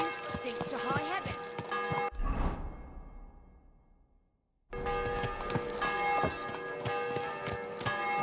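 Horse hooves clip-clop in the medieval video game Kingdom Come II, a quick irregular clatter under echoing ambience, cut off by a loud whoosh that fades to silence before the hoofbeats and bustle return.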